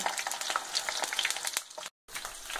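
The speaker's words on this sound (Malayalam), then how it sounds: "ഒരു പാനിൽ വെളിച്ചെണ്ണ ചൂടാക്കി കടുക് പൊട്ടിച്ച് പച്ചമുളക് ഇടുക" Mustard seeds and green chillies frying in hot coconut oil, a dense crackling sizzle with rapid popping bursts, close and steady, broken by a brief silent gap near the end.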